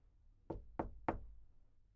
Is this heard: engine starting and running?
no